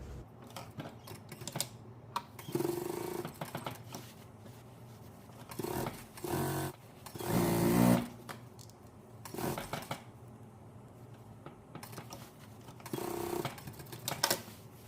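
A sewing machine stitching a shirt collar at 0.5 stitch length, running in several close bursts of rapid mechanical whirring separated by short pauses and fabric handling, without talking.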